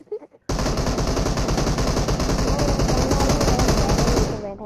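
A bot fires a weapon in World of Tanks as one long, loud, unbroken burst of rapid automatic fire. The tight, even shots keep going for about four seconds and stop abruptly.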